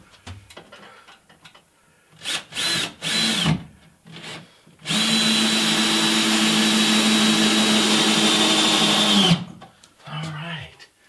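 A power drill runs in one long, steady burst setting an anchor during bathroom rough-in inside a shipping container home, preceded by short tool bursts and some nearby talk before and after.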